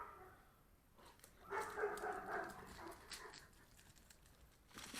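A dog at a door lets out a faint, brief whimpering whine near the middle, then goes quiet against a low, hushed room background.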